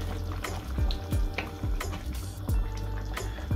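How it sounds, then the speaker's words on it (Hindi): Mutton for achar gosht fries on a high flame in a pan, giving a close, steady bubbling sizzle with frequent small pops. "आप इसको अच्छे तरीके से भून लें,"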